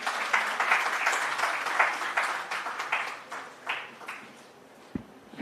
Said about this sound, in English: A big round of applause for Ma'am